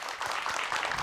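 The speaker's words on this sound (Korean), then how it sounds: "큰 박수로 맞이해 주세요" Studio audience applauding to welcome a guest teacher onto a TV talk show, a dense, steady wash of clapping for about a second with no talk.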